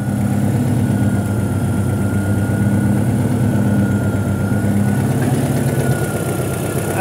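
A car engine with a faulty knock sensor idles steadily and loudly close by, a constant low rumble with a faint rhythmic ticking texture and no speech.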